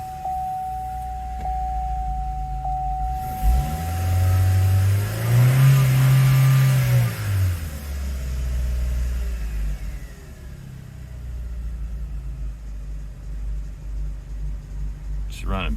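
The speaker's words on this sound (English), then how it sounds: "Let's start the car." A 2013 Chevy Sonic engine cranks, catches, and revs up with a deep rumble, then settles into a steady idle, with brief talk nearby.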